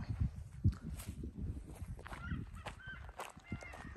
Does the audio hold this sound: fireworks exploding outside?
no